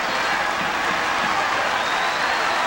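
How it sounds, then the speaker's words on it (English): Steady, dense applause from a basketball crowd in the stands during a Rutgers at Pittsburgh men's college game, broad and continuous without any speech on top. "Everybody clapping in the stands here to try to get."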